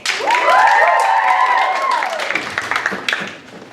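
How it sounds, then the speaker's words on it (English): A live audience applauds and cheers after a Hunchback of Seville performance. A loud, sustained whooping cheer rises over the crowd's noise, then scattered claps follow as the noise tapers off. "Give a round of applause for the Hunchback of Seville."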